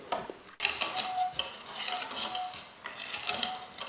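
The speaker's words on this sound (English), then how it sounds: "You're gonna use a spoon. Give it a stir." A spoon stirs marble cake batter of sugar, butter and egg in a bowl, making soft repeated scraping and clinking strokes, fairly quiet and without speech.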